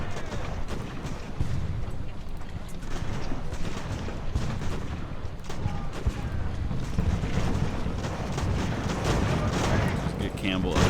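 Sailing-era naval and field cannon fire in the strategy game Ultimate Admiral: Age of Sail, a dense, continuous rumble of booming volleys and distant gunfire layered under a busy battle soundscape.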